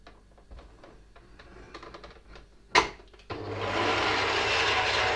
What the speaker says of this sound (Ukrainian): Збиваємо масло.